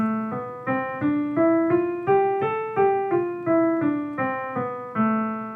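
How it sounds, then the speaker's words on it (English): Piano notes climb one at a time up a minor scale and then step back down, each clear, evenly spaced key struck and ringing into the next. "If I were to play a minor scale, it would sound like this."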